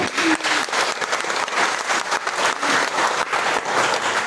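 Dense, steady audience applause fills an indoor hall at a political gathering in Tambunan, a continuous wash of many hands clapping close by, with no voices over it.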